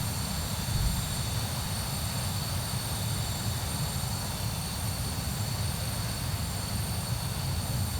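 A Cessna Citation II business jet heard from an outside view in the X-Plane 11 flight simulator gives a loud, steady jet-engine roar with a constant high whine, unbroken for eight seconds.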